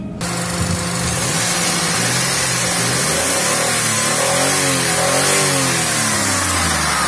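A car engine revs steadily and loudly throughout, its pitch rising and falling in sweeping waves as the throttle is worked, close to the microphone with no voices.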